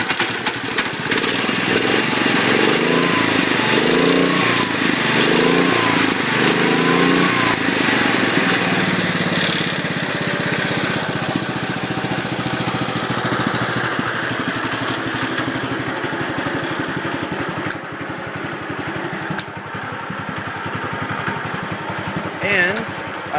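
An old Cub tractor engine idles just after a cold start, its loud, steady throb close by and wavering unevenly as if about to stall, with a person talking over it.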